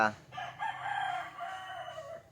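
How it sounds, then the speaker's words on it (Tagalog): A rooster crows loudly and close among many chickens in a Philippine village yard, one drawn-out call lasting about two seconds. "pagpasensyahan nyo na dahil maraming manok dito sa amin"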